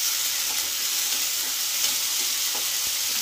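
Ginger-garlic paste is stirred into browned frying onions, giving a constant close hiss of sizzling oil with faint, soft stirring movements and no talk.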